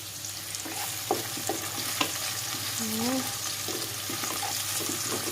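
Garlic, shallots and chili frying in a pan, a steady close sizzle with scattered clinks of a utensil and a brief tonal squeak, while someone talks quietly in the background.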